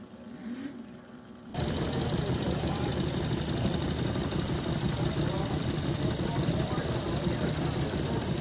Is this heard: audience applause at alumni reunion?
no